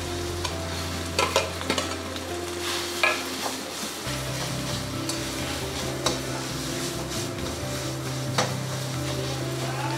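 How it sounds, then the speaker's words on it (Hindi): Potatoes sautéed with spices in a pan for stuffed rice-flour puris, a continuous close frying sizzle broken by occasional spoon scrapes and clinks, under a low steady hum, with no talk. "अब इसे हम अच्छे से भून लेंगे आलू को।"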